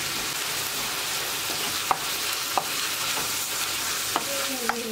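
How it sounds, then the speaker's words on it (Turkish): Tantuni meat sautés in a pan with a constant bright sizzle, punctuated by a few sharp spoon taps and scrapes against the pan at irregular intervals. "Sadece bir iki dakika şöyle kavuracağım."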